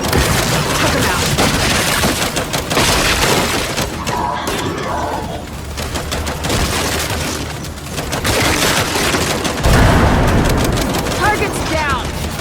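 Turret gunfire and explosive booms in the Gears 5 video game, a loud, dense, continuous barrage of shots and blasts with shouted voices over it.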